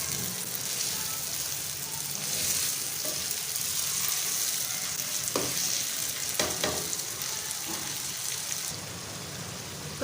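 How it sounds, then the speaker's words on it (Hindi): Chicken liver fries in a pan with a loud, continuous sizzling hiss, with occasional stirring scrapes and pops, close up and with no talking. "तो कलेजी हमारी थोड़ी सी कुक हो गई है।"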